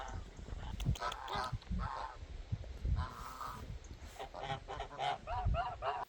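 Geese honk repeatedly in a noisy cluster, several calls overlapping at close range over a rumbling background.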